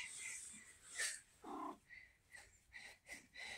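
A red tabby cat gives a string of short meows and chirps, about six quick calls in a row, faint and close with no talking.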